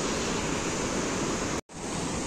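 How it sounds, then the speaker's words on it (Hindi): Fast, swollen river rushing beneath a wooden bridge, a steady loud broadband roar of flowing water with a momentary cut-out near the end. "तो दोस्तों देख सकते हो आप बहाव कितना ज्यादा है"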